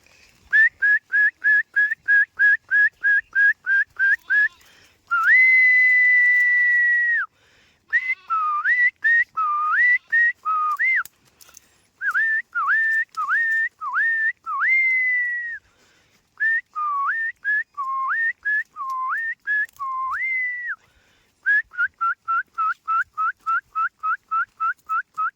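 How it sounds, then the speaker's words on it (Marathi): A shepherd whistles to settle his sheep while they drink, in loud, close, repeated sharp whistle bursts. Some come in quick even runs and others as longer rising and falling calls, with no one speaking. "अशी शिळ फुकली शिट्टी वाजवली की मेंढर शांत पाणी पितीत"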